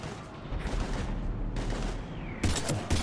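Dense sci-fi gunfire from a Mass Effect 3 battle on Earth: continuous bursts of shots and rattling fire with low rumbling booms underneath, loud and close, growing sharper in the last half second.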